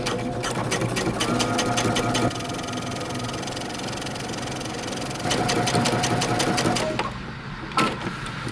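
A sewing machine runs steadily while top stitching a seam on a pair of jeans, close and loud, with a fast needle chatter that briefly speeds up and eases off, then winds down near the end.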